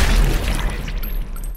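A gunshot rings out in a kung fu film shootout: one heavy, booming blast with a deep low-end thump that decays over about a second and a half before cutting off.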